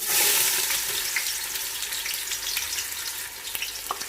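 Two large sliced onions frying in about a cup and a half of hot oil for shaljam gosht, a close, bright sizzle that starts loud and settles into a steady crackle with a few light clicks.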